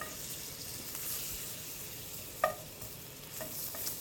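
Mushrooms sautéing in a little butter in a hot pan, a soft, fairly quiet sizzle with a single sharp clink of a utensil midway and light stirring, no voices.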